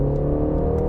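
A BMW 3 Series with an inline-four engine in sport mode gives a short burst of steady, close engine hum under acceleration, with no voices.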